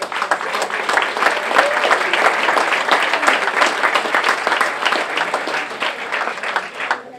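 Audience at the 2017 European Croquet Championship final breaks into sustained, dense applause, a steady wash of many hands clapping close and loud throughout, fading slightly at the very end.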